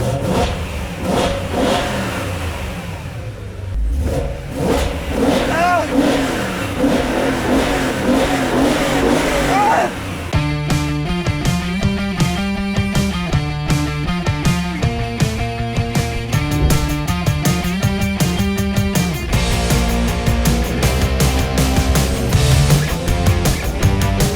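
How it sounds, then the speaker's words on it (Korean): A BMW E92 M3 with its naturally aspirated V8 runs steadily, loud and close, its engine note continuous throughout with rising and settling swells. "이 아이들링 시의 소리"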